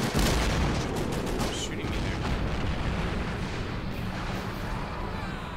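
Mortar and artillery fire in a World War II video game, a dense continuous rumble of booms and gunfire that stays loud throughout, with a voice talking underneath.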